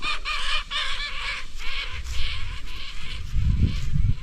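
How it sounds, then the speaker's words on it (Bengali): Birds called hansh pakhi, a kind of duck, near a pond in the Andaman Islands give repeated nasal quacking calls in quick bursts at middle distance, with low rumbling noise rising toward the end. "এই জায়গায় হাঁস পাখি রয়েছে।"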